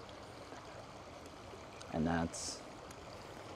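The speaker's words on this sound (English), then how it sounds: "let me cross this stupid little brook" A small brook flows through Whites Branch Park in North Texas, giving a steady, close wash of running water throughout. A voice speaks briefly midway.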